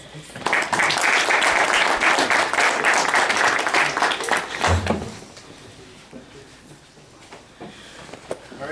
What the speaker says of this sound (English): join me in the applause to welcome our guest speaker, Mr. Cerecerez